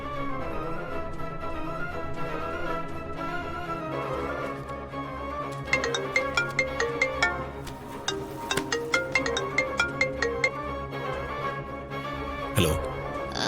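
A phone ringtone plays continuously while someone calls a man to thank him in a Tamil TV drama scene, melodic tones with rhythmic pulses running steadily at moderate loudness, no talk over it.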